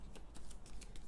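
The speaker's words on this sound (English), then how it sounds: "So we've got all of our decks shuffled." A Game of Thrones board game Wildlings card deck gets shuffled in quick, soft riffling bursts, faint and close, with no talk.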